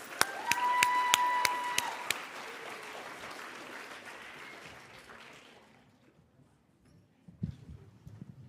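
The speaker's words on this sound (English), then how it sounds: "Let's give them a big round of applause." Audience applause for students at a national science showcase, a brief burst of clapping and light cheering at the start that fades over several seconds into quiet, with some faint knocks near the end.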